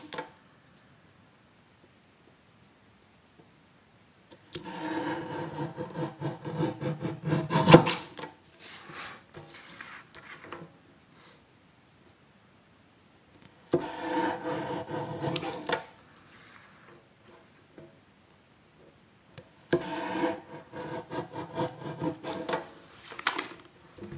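A printed circuit board is cut down to size in three separate bursts of close, rasping scraping, each a few seconds long, separated by quiet pauses.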